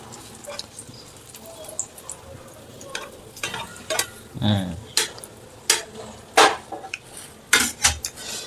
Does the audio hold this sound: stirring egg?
yes